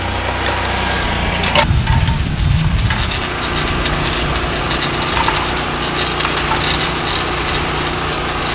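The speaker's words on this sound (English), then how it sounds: "I'm gonna go get the boat on." A steady boat engine idles and drones close by, with a brief knock and rattle near the start, then a continuous mechanical hum.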